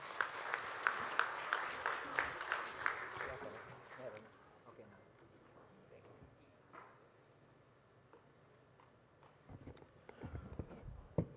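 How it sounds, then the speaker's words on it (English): Applause from an audience at a MARINA Day of the Filipino Seafarer celebration, fairly faint and rhythmic at first, fading out after a few seconds into a quiet hall with light shuffling. "Let us give him a round of applause"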